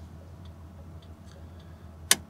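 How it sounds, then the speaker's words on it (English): Passenger-side turn signal blinker in a 1986 Ford F-150 Bullnose 4x4, faint soft ticks followed by one crisp loud click over a steady low engine hum. "Passenger blinker there."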